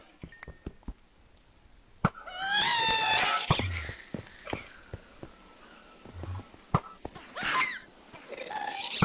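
A ghast's wailing scream in the Nether in Minecraft, a high, quavering cry rising out of game noise, followed by another shriek later, amid clicks, thuds and block-breaking sounds.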